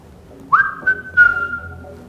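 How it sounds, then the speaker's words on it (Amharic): A single clear whistle during an ear test, rising sharply and then held as a long, steady, slightly falling tone for about a second and a half, close and fairly loud against a quiet room. "ፉጨት?"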